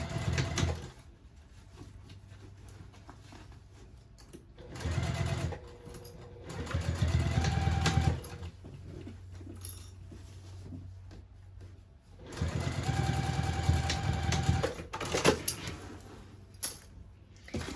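A sewing machine stitches the last corner of a tote bag, running in several separate bursts of steady mechanical whirring with quiet pauses between them as the fabric is shifted under the needle.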